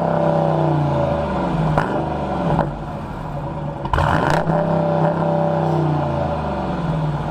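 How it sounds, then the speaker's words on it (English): A Dodge Durango R/T with a performance exhaust revs up close by, its deep steady drone broken by several sharp throttle blips and clatter before settling back to a loud rumble. "you've got the performance exhaust on this thing, and I want to hear it, so fire it up."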